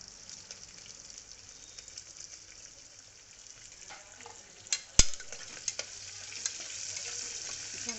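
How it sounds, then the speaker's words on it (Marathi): Sliced onion frying in oil with whole spices for a vegetable pulao biryani gives a faint, steady sizzle, with a few sharp clinks and stirring scrapes near the middle and the frying growing slightly louder toward the end. "आपण चिरून घेतलेला कांदा उभा चिरून घेतलेला कांदा परतवायचा आहे"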